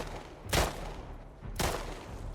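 Two heavy gunshot bursts about a second apart in the video game The Last of Us Part II, loud and booming against a low ambient background.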